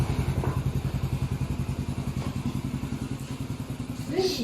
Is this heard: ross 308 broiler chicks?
no